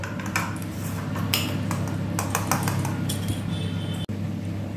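A utensil stirs and scrapes through ingredients seasoned with pepper and a little salt in a metal bowl, giving continuous clinking and scraping with a few sharper knocks and one hard tap near the end.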